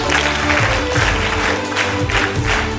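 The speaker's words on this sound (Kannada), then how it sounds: "ಅದಕ್ಕೋಸ್ಕರ ಮತ್ತೊಂದು ಚಪ್ಪಾಳೆ" Crowd clapping at a uniform distribution event held by the Dhruvatare Foundation, a dense, loud round of applause that continues steadily for a few seconds.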